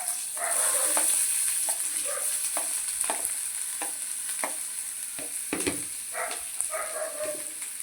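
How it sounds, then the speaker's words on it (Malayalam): Onions frying in hot oil in a pan give a steady sizzle throughout, with repeated utensil scrapes and stirring knocks rising over it at close range; no one speaks. "എണ്ണ ഒന്ന് ചൂടായി കഴിയുമ്പോൾ നമ്മൾ എടുത്ത് വെച്ച സവാള ഇട്ട് കൊടുക്കുക കേട്ടോ"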